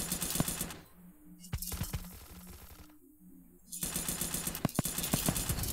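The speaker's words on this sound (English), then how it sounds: "I'm sniping everybody! Sniped again!" Rapid gunfire bursts from a first-person shooter video game, with sharp sniper-style shots cracking out over dense, loud electronic game music, some in quick clusters and others isolated.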